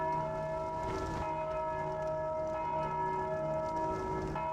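A deep church-style bell rings in the dark fantasy video game Dark Souls 2, its sustained metallic tone humming steadily throughout with faint repeated strikes, and no voices present.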